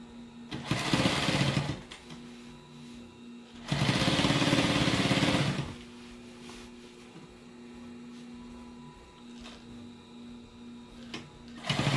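A sewing machine stitches Sunbrella fabric in two loud, fast-running bursts of a couple of seconds each. A quieter background hum fills the gaps, and a third burst starts at the end.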